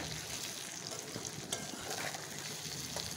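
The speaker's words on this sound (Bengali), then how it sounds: "মশলার সঙ্গে মাছগুলো অনেক ভাজা ভাজা হয়ে গেছে" Rohu fish belly pieces fry with spices in a pan for a lentil dish, giving a soft, steady sizzle with light stirring scrapes, faint and alone.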